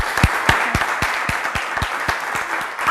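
A studio audience on a televised children's quiz show applauds, dense clapping with a strong steady beat of rhythmic thumps running beneath it.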